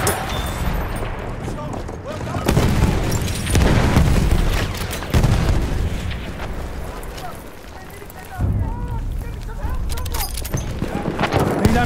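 Battlefield 1 Suez conquest battle with machine gun fire in loud bursts among booms and explosions, a dense chaotic wall of combat noise throughout, with voices shouting over it.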